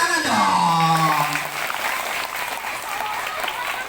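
Children at an elementary school storytelling event clap their hands together after a voice rises over them, the clapping dense and lively, continuing steadily to the end with a few voices mixed in.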